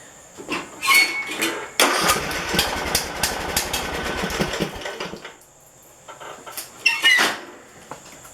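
A gasoline engine that was running poorly or refusing to start cranks and catches after fuel is pumped, a dense, loud mechanical chatter running several seconds, with clicks and rattles before and after.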